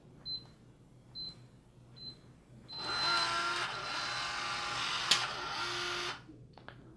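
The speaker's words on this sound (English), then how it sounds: "The lock will perform a setup routine. When the bolt stops moving, the process is complete." A Schlage Connect deadbolt runs its setup routine: a few short beeps, then a steady electric motor whir drives the bolt for about three seconds with a click partway through before it stops, close up, no talking.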